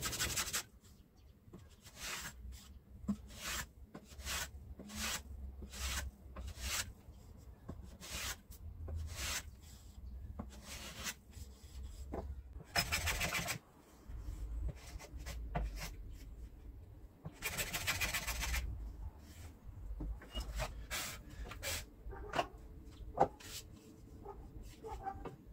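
A hand plane trims a wooden box lid to final size, giving repeated short rasping strokes in an uneven rhythm, close up, with a couple of longer shaving passes midway.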